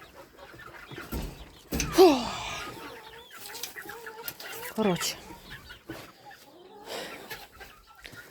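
Chickens cluck and squawk close by in a lively flurry, while a person speaks over them in short bursts.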